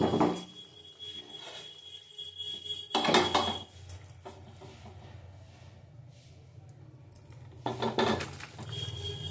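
A cooked papaya and potato curry is scraped and poured from a pot into a microwave-safe bowl, with bursts of metal spoon clinks and scraping against the cookware separated by quieter stretches, close and fairly soft.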